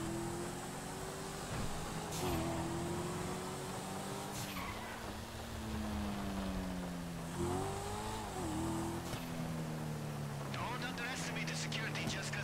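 Car engine revving in GTA 5 Online, with rising and falling engine tones, gear shifts and tire skids repeating throughout, loud and close, while someone talks over it.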